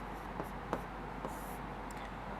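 Hand writing during a Sanskrit lesson, with faint scratchy pen or chalk strokes and a few light taps over quiet background hum.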